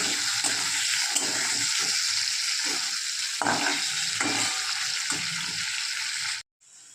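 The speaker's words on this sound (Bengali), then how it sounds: "চিংড়িগুলোকে এখানে একটু হালকা করে ফ্রাই করে নেব" Shrimp fry lightly in a pan with a steady close sizzle, pulsing softly as they are moved, then the sound cuts off abruptly near the end.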